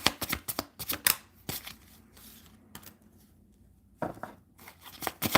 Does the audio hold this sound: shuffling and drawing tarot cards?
yes